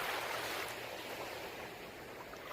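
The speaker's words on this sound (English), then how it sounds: "Continue on for a few rounds as you listen to the waves." Ocean surf washes steadily onto a Hawaiian shore, a continuous broad roar of waves with no distinct breaks, heard alone at low level.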